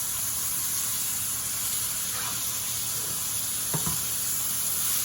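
Sausage stirred into spaghetti squash in a pan, a steady soft sizzle and hiss running throughout with a couple of brief scraping stirs near the end.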